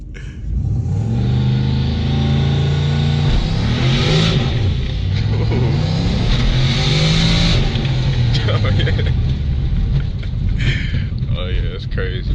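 A 520 WHP turbocharged 4.6L Mustang GT accelerating hard from inside the car, a steady loud engine roar with rising and falling pitch as it pulls through gears, while people talk over it.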